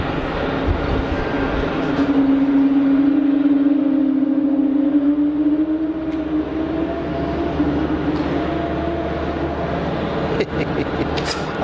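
A jet airliner at Geneva Airport gives a loud, continuous engine roar with a steady whining tone running through it, close by and without voices.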